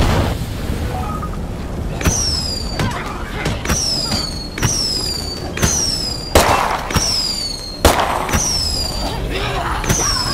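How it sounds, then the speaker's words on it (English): Fireworks set off in the video game State of Decay 2: a rapid series of loud bangs, each followed by a descending whistling crackle, repeating roughly every second across the stretch. "I'm gonna set off a firework."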